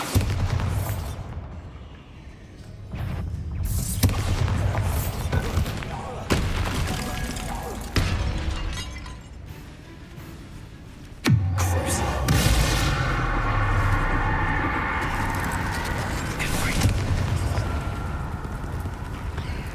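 Bombarda blast spells going off in Hogwarts Legacy gameplay, several loud booming explosions at intervals with a long rumbling burst near the end, over game music and effects.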